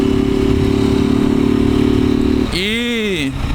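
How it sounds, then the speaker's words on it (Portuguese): A motorcycle engine with a 4mm overbore idles close by with a steady, rattling clatter of something loose inside, then is briefly revved and drops back as the rough knocking continues; a voice speaks. "Barulho do motor mesmo, parece ter alguma coisa solta"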